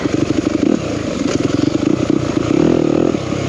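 A dirt bike motorcycle engine runs close and loud with a rapid, pulsing throb. It revs up briefly near the end, with no voices.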